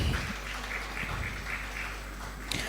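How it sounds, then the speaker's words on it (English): A conference audience at a women-in-journalism event gives another round of applause, a moderate, even patter of clapping from the room that continues steadily and ends with a brief louder burst. "Please, another round of applause again for Yomi."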